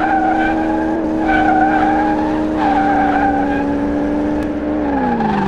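Tyres of a W12-swapped Satsuma spin and squeal loudly and steadily in Car Mechanic Simulator, the engine note droning beneath and dipping lower near the end.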